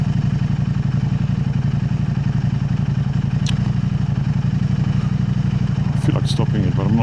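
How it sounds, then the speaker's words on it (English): A KTM 890 Adventure R motorcycle with an Arrow exhaust system idles close by with a steady, loud, throbbing low rumble; a voice speaks over it near the end. "people asking me about the sound of this exhaust"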